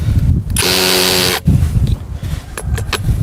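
A LYUOWO LW CZ20 cordless impact drill in hammer-drilling mode boring into a piece of concrete road curb: a loud, close buzzing burst lasting about a second, followed by clattering handling noises.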